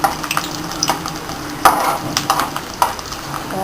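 Ingredients stirred in about four spoons of heated oil in a pan for a mixed vegetable curry, with scraping spoon strokes and light clinks over a steady low sizzle, close and moderately loud.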